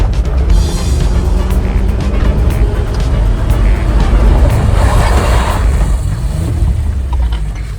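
A 1992 Toyota 4Runner engine drives a hot lap, a loud, steady rumble and roar holding close and continuous, swelling a little mid-run with some road and wind noise mixed in.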